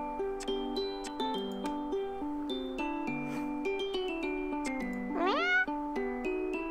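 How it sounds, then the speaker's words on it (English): A plinking electronic game melody plays throughout the video game Purrfect Date, and a cartoonish cat meow pipes up near the end, fairly clear above the music. "Meow."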